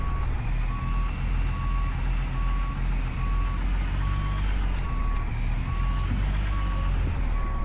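A truck reversing in the driving game American Truck Simulator gives out evenly spaced reverse-alarm beeps over a low engine drone, steady and close, with no one talking.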